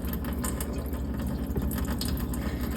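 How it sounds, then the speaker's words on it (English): Water from soaked dates is drained off, a steady trickling, pouring flow heard close and continuous throughout. "you're just kind of draining most of that date water out"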